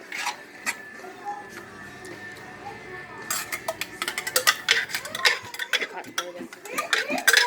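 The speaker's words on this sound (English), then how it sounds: "I'm going to take the lid off here, do a little stir around with them" Metal utensils clink and scrape against a pot of boiling noodles in an irregular stirring rhythm, growing busier over several seconds, with a faint steady hum behind.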